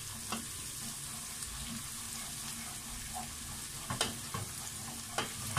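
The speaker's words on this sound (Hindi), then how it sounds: "अभी हम इसमें लहसुन अदरक डालेंगे कुटा हुआ, और उसका भी कच्चापन खत्म करने तक उसको पकाएंगे।" Crushed garlic and ginger fry in oil with softened onion for a potato and egg gravy, a soft continuous sizzle broken by a few sharp clicks and scrapes from stirring.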